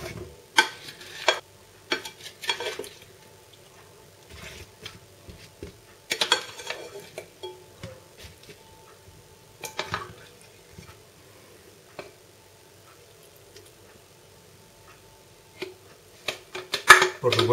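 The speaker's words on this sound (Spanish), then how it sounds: "vamos a poner las patatas que hemos preparado. Las pondremos repartidas por el fondo de la bandeja" Prepared potatoes being spread across a baking tray beside a smoked pork knuckle, with scattered close clinks, scrapes and taps of utensils against the tray between quiet pauses.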